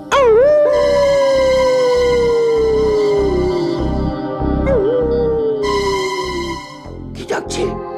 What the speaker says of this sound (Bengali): একটা কুকুর প্রাণপণে ডাকছে।